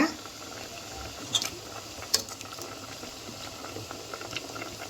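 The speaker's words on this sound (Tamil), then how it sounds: "ஒரு 5 மினிட்ஸ் ஆகிடுச்சு. நல்லா கொதிச்சிருச்சு." Chayote simmers in water in a pot for okra curry, a soft continuous bubbling with a couple of brief clicks, fairly quiet and steady, no one talking.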